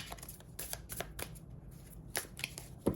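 Tarot cards are shuffled nearby: quick, crisp riffling and flicking at a low, steady level, with sharper snaps now and then and no voices.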